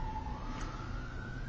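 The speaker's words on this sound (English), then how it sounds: "more sirens, God knows where they're going" Emergency vehicle sirens wail outside in London, a steady rising tone running through the whole stretch over a constant background of traffic rumble.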